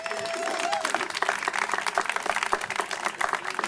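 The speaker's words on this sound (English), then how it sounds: "go ahead, clap for that, please" Crowd applause breaks out at an organized labor event honoring women in the building trades, a steady patter of clapping with some voices mixed in, fairly close and moderately loud across the whole stretch.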